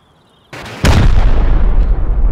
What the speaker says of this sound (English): I think it's three rockets, right?